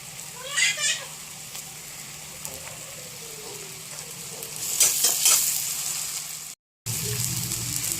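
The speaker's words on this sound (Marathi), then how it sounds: "कांदा चांगला भाजून झाला त्याच्यामध्ये टाकणार आहे मी टोमॅटो." Onion and tomato frying in a pan for paneer bhurji, a steady close sizzle with stirring scrapes and a few louder bursts, with a brief gap near the end.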